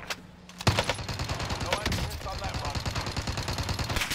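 Rapid automatic gunfire rattles in Call of Duty: Warzone, a sudden loud shot followed by steady fast bursts of close rounds that continue through the rest.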